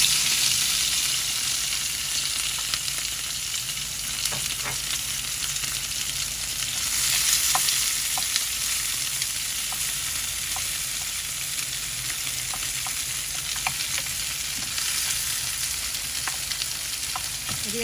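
Prawns, onion, garlic and large green chilies frying in a pan, a loud continuous sizzle with small crackles and the occasional clink of stirring.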